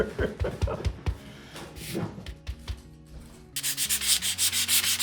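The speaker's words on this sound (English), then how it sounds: "she's sanding the paper" Rapid back-and-forth rubbing of sandpaper on paper, close and loud, first in uneven strokes then settling into a steady, faster rhythm.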